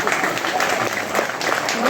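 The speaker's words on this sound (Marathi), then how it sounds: "सर्व टाळ्या जोराने" Applause from villagers at a felicitation ceremony at a temple, a steady burst of clapping from a small crowd with a voice speaking over it.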